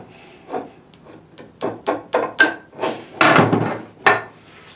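Hammer strikes seating U-joints into a drive shaft yoke during a roadside repair, about a dozen sharp metallic blows at an irregular, quickening pace, close and loud with no talk.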